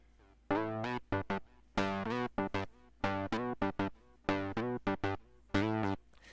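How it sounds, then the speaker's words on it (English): Bubbly, hyper bass synth in a beat, punchy rhythmic stabs in quick bouncing bursts with short gaps, not very deep, playing alone and up close. "this really kind of bubbly, hyper bass synth, and it's not too bassy"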